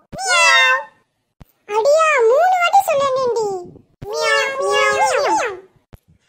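A cat meows in three drawn-out, wavering calls, close and loud, with short pauses between them, in a lively home in Kilakarai where children are chatting and playing.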